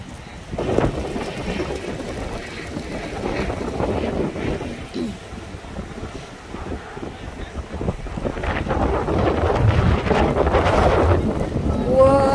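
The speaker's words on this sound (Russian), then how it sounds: "Сегодня такой ветер" Strong wind buffets the microphone in continuous gusty roars, with voices talking faintly underneath.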